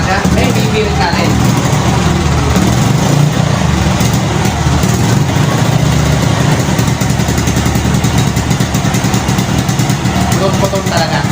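A motorcycle engine under repair, started with a little throttle and then revved, running loud and continuous with a steady rough idle pulse throughout while someone talks over it.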